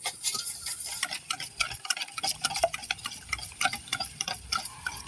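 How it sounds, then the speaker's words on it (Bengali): Eggs and sugar whisked together in a bowl for pudding, a fast, steady ticking rhythm of the whisk against the sides, close and continuous. "চিনিটা ডিমের সঙ্গে খুব ভালোভাবে ফেটিয়ে নেব"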